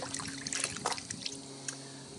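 Blue Coral High Foam car wash concentrate soap being swished by hand in a bucket of water, a soft, close trickling and sloshing that is fairly faint and steady, with no voices.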